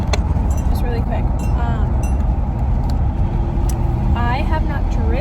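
A car rolls along with a steady low road rumble and engine hum heard from inside the cabin, while someone talks over it throughout.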